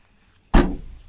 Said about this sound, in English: which is very easy for all users to pull the back door and close it